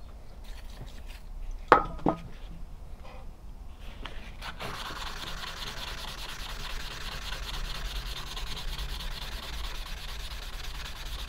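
A knife blade is sanded by hand to a brushed metal finish, giving a steady, close rasping rub that continues evenly for several seconds after a couple of sharp knocks near the start.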